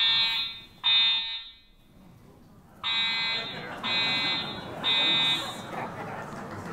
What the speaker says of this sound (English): This event was cut a little short by a fire alarm in the building.